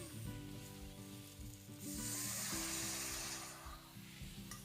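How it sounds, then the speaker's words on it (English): Seared lamb in a potjie pot sizzles hard as balsamic vinegar hits it for deglazing, a sharp hissing burst that swells loud midway and then eases back to a steady fry, with no talking. "we're going to deglaze it with some nice balsamic vinegar"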